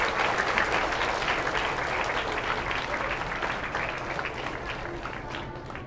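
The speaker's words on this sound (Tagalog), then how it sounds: "bigyan natin sila ng masigabong palakpak" Sustained applause from a crowd honouring graduates at an elementary school ceremony, dense steady clapping that fills the hall and slowly tapers over several seconds.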